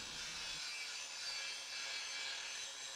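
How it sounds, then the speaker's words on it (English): A grinding disc works a copper sheet, giving a steady, loud, hissing high-pitched grind that runs continuously throughout with no voices. "Using a grinding disc on the copper gives a completely different finish compared to sanding or the wire brushing."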